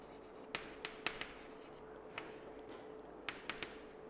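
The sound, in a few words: writing an English grammar sentence by hand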